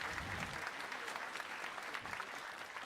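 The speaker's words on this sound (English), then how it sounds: "Please give them a round of applause." Audience applause at the 2024 MIT Mystery Hunt closing ceremony, steady and sustained throughout, heard from a slight distance as a continuous wash of many hands clapping together.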